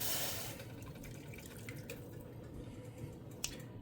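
Water runs steadily into a soup pot, a continuous splashing trickle with a small clink near the end, fairly close and with no voices.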